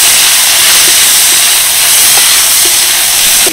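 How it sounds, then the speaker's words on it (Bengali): Dried chillies, garlic cloves, black cumin and chopped onion frying in oil, a steady loud hiss and sizzle throughout with a few faint clicks, no voices. "এবার এগুলোকে ভালো করে ভেজে নেব"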